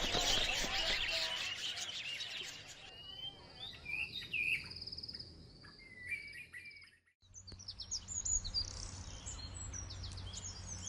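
Birds chirp and tweet in bright bursts in an animated moral story about a proud queen and a wise bird, with a brief pause before softer calls resume over a low background hum.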